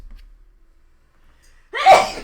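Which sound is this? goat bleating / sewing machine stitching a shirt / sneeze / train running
sneeze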